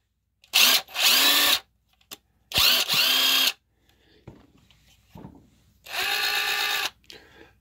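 An OEM Tools 20-volt cordless drill whirs in several loud bursts of about a second each, with short pauses and faint clicks between runs, up close and without talk.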